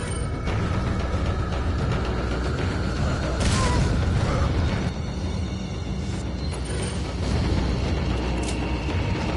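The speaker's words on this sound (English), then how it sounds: "Grenade time!" A grenade blast in the video game Resident Evil 4 HD, a loud booming burst about midway through amid constant rumbling game noise and mechanical sounds, no speech.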